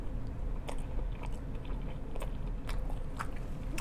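Wal-Mart thin crust frozen pizza is chewed up close, with crisp crunchy bites and wet mouth sounds over a low rumble.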